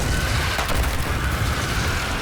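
Enemy exploders blowing up in Destiny 2 during a solo Kell's Fall mission: a dense, continuous rumbling blast texture with booming low end and crackling debris, loud and sustained throughout.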